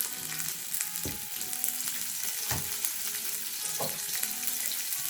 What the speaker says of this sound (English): Add the vegetables, onions and peppers only, please.